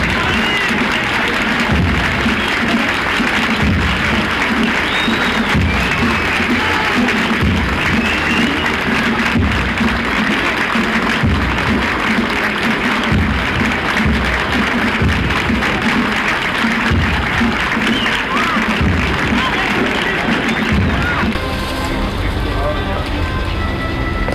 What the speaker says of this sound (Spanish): La gente aplaude, les ha gustado a todos.